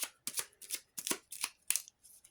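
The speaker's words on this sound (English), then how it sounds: "shuffle the item deck" Item cards from a board game deck being riffled and shuffled, a series of about six crisp papery bursts in uneven rhythm, close and clear with no talking.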